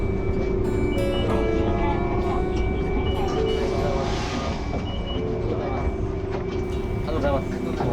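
Steady rumble of a Hankai Tramway streetcar in Osaka running along the rails toward Sumiyoshi Toriimae, with a constant hum, faint squeals and clatter, and muffled talk underneath.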